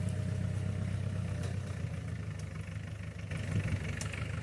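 A homemade tractor's Ch4 diesel engine runs steadily at a low, rumbling idle, a continuous throbbing drone with no pauses and no talking.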